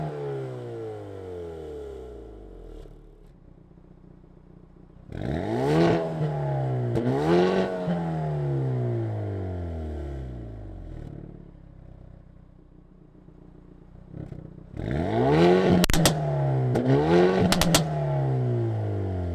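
A 2020 Hyundai Veloster N hot hatch engine revs hard several times, the exhaust rising and falling in sharp bursts, with a deep burbling idle settling between the revs.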